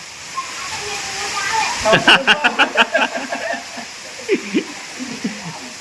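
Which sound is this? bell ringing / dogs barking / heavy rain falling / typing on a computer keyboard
heavy rain falling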